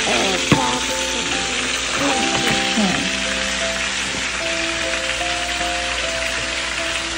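Cauliflower fritters sizzle steadily in hot oil, a dense crackling hiss heard up close and continuing throughout, with a few soft clinks of a utensil near the start.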